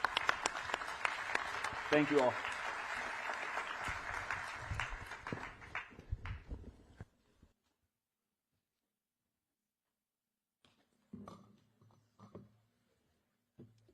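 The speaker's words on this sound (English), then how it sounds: "Let's give our panelists a round of applause." An audience applauds a conference panel on second-chance employment, with steady clapping that fades out after several seconds, and a voice speaks briefly near the start and again later.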